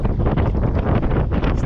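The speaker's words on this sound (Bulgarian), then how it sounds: "И така, има вълна, излезе вятър." Wind blows hard across a fishing boat out on the Black Sea, a loud, continuous roar buffeting the microphone, with no talk.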